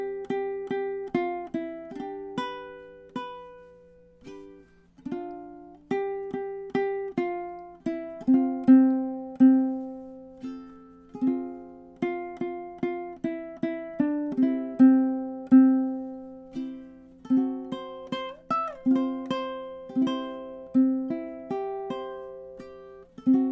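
Ukulele plays the final chorus, a steady run of plucked and strummed notes with regular attacks and sustained ringing, close and clear with no voices.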